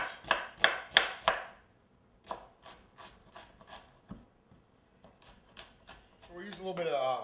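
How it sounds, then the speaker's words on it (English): Knife dicing onions on a cutting board, a burst of quick chopping strokes at first, then sparser single cuts, close and fairly loud, with some rustling at the end. "Now we only need probably about 2 cups of these onions, but we're going to cut a few extra anyway"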